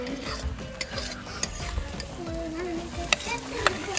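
Paneer pieces fry in a pan with a soft, continuous sizzle, broken by sharp clicks and scrapes of stirring, all heard close.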